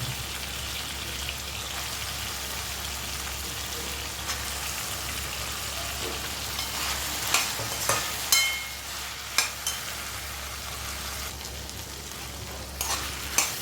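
Eggplant pieces frying in a pan, a continuous hiss of sizzling oil with a low steady hum beneath, and a few sharp scraping stirs toward the end.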